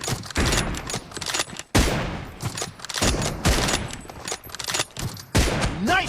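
Sniper rifle shots in the mobile battle-royale game BGMI, a dense run of loud, sharp gunfire blasts in quick succession with short gaps, close and punchy over background game sound.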